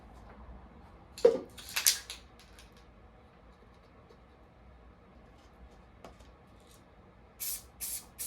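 A few short hissing bursts of spray paint through a stencil in a quiet room, a louder pair early on and two more near the end, with faint handling noises between.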